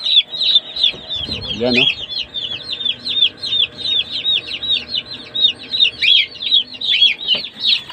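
Chicks peep continuously in an incubator, a dense shrill chorus of rhythmic cheeps close by, with a short spoken phrase near the start.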